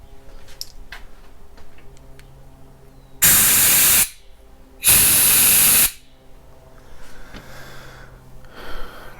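Two loud bursts of compressed air, each about a second long, blown through a small passageway in a Honda carburetor, with quiet workshop background between them.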